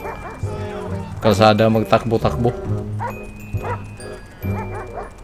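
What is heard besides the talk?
dog barking in video game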